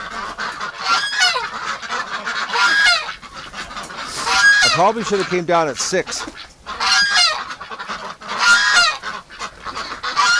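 Loud, repeated honking quacks from a group of ducks close by in their pen in winter, coming in bursts, with a person speaking briefly underneath.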